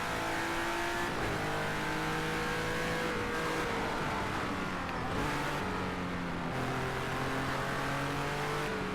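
A race car engine in a racing video game screams loudly and steadily, with pitch dropping at each downshift and climbing again through repeated gear changes on a twisty section, no talk.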